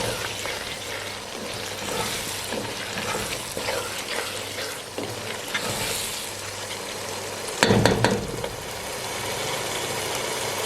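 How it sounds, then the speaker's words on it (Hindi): Mixed vegetables roast in a pan with black pepper powder for a hotel-style mix veg curry, giving a continuous close sizzle with stirring scrapes and a brief louder clatter near the end. "इसको मज़ीद 1 से 2 मिनट तक भूनेंगे"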